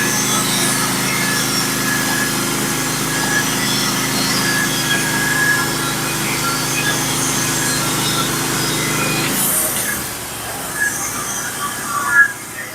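A Norwood HD36 portable bandsaw mill cuts a black locust board, its small engine humming steadily with a whining blade until the cut ends and the engine drops to a rattling idle, with a few knocks near the end.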